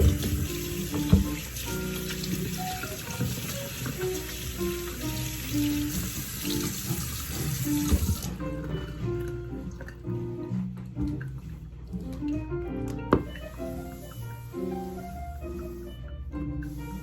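Hands are washed under a running kitchen tap, with water splashing steadily and close for about eight seconds. The tap then shuts off, leaving drips and light handling sounds.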